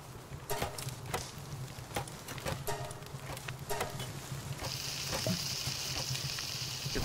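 Food sizzling and frying in the Palworld video game, a steady crackle punctuated by sharp clicks and pops, with a brighter hiss swelling toward the end.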